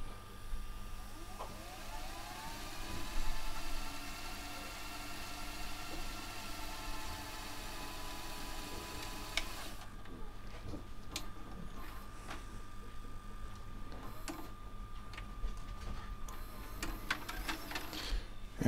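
A quiet, steady mechanical whir comes from the VHS tape spool mechanism in a Sony DAV-D150G DVD/VHS AV receiver, along with faint clicks and small clunks as the tape rewinds. No one speaks.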